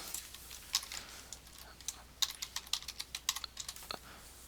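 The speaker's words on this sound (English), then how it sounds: "so let me go ahead and type that in" Computer keyboard typing, heard as a quiet, irregular run of soft key clicks that cluster into a quicker burst toward the end, with no talking.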